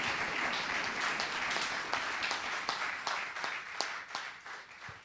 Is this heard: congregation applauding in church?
yes